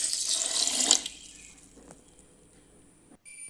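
Water being poured from a measuring glass into a mixer grinder jar to grind soaked rice into a batter paste for Malabar kalathappam, a short splashing burst that stops abruptly and leaves quiet kitchen ambience.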